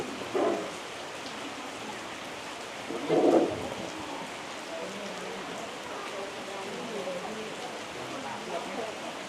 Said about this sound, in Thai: เพราะว่าฝนตกลงมา เยอะเลยนะครับ